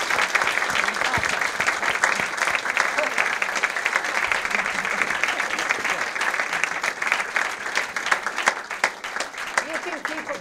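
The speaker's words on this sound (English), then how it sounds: "You can keep applauding, it's okay, it's okay." Sustained audience applause fills the room at a public forum event, dense and steady throughout with scattered sharper claps and some crowd voices mixed in.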